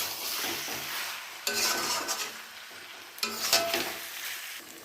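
Mutton being stir-fried kosha-style in a pan gives a steady sizzle, and two bursts of scraping and clattering spatula strokes break through it, close and fairly loud. Nobody speaks.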